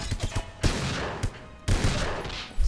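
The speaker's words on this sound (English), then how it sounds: "Misses both shots." Two loud shotgun blasts fired close together in a James Bond game on the PS2, each a sharp broadband crack with a short decaying tail over a busy game soundscape, with a few smaller impacts before them.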